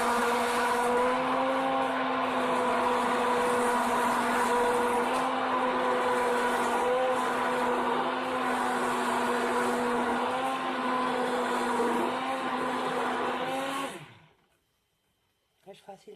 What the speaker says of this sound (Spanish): Ahora lo vamos a mezclar bien con la batidora.